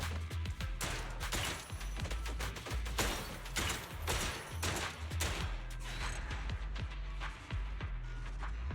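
Hip-fired gunshots in a video game, rapid bursts of fire that repeat for several seconds over steady game background noise, with no voices.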